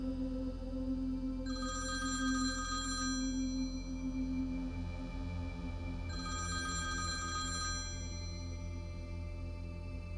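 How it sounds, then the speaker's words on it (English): A hotel lobby telephone bell rings in two long bursts separated by a pause of a few seconds, over a steady low background hum. "the phone rang again. Same one. Lobby phone."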